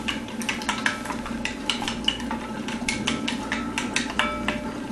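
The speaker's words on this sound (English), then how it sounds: "So give it a stir." Red snapper sarciado is stirred in a pan, a utensil clinking and scraping against the metal in a quick, irregular rhythm over a low background hiss, close and fairly loud.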